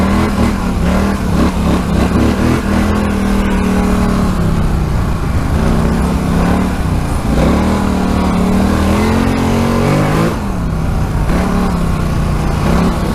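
A Polaris Scrambler 850 ATV engine revs hard while being ridden, loud and close, surging and dipping repeatedly as the throttle opens and closes, with brief drops in pitch between bursts.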